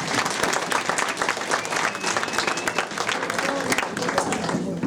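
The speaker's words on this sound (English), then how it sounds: "Give Jenny a big round of applause." Audience applause at a Halloween party, steady dense clapping that fills the whole stretch, fairly loud, with crowd noise and some voices mixed in.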